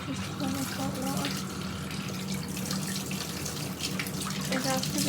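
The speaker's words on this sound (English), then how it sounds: "this is taking ages to run with hot water" Tap running hot water into a cup for making slime, a loud, continuous hissing splash that stays steady throughout, with faint voices underneath.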